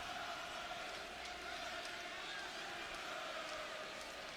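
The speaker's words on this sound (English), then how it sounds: "You can hear the Las Vegas crowd here on their feet for the champion." A Las Vegas arena crowd in the WWE 2K25 wrestling video game roars steadily and continuously, a dense wash of cheering and shouting with no breaks.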